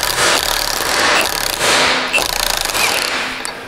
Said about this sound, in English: I like to use my handy dandy trusty impact wrench, make short work of that.